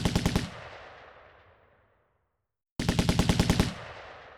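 A German MG-42 machine gun of the kind used at Omaha on D-Day, firing two very fast, loud bursts of about half a second each, with a long fading echo after the first.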